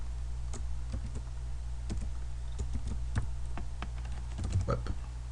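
Quick, uneven clicking of computer keyboard keys being typed on during Red Hat Enterprise Linux 7 configuration, close and clear above a steady low hum.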